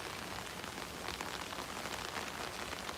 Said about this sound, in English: When's this rain gonna end?